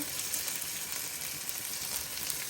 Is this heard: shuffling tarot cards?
no